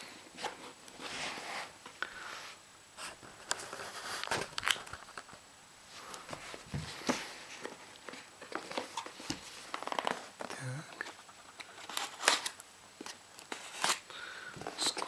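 A Cube U33GT Super tablet's shipping box with a slightly crushed corner is opened, producing irregular bursts of crackling cardboard, tearing tape and rustling packaging up close, separated by brief quiet gaps.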